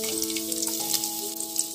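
Chopped tomatoes sizzle and crackle in hot oil for a Kokani-style crab curry cooked over a wood-fired clay stove, a close, continuous frying hiss with small pops.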